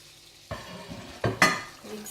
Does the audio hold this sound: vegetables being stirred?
yes